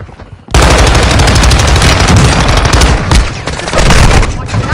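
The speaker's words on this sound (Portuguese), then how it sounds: "Tô levando tiro aqui!" Loud, rapid bursts of automatic gunfire and explosions erupt after a brief quiet start, sustained and dense in a Call of Duty firefight.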